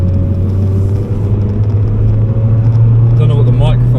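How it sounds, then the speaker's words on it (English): A Nissan Silvia S15's low, steady exhaust drone rumbles continuously from inside the cabin while driving, with a voice briefly talking near the end. "I don't know how well you'll be able to hear the exhaust."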